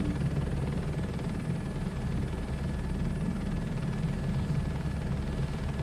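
A crop-dusting helicopter in Microsoft Flight Sim 2024 runs near full collective, a loud, continuous rotor-and-turbine drone with a steady low throb and a faint high whine, unbroken and without talk.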